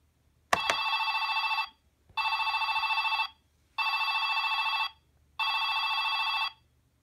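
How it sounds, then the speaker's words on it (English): A toy telephone in a Littlest Pet Shop playhouse rings in four electronic bursts of roughly a second each, steady and evenly spaced with short gaps, starting after a click, close and alone with no talking. "here's the telephone over here."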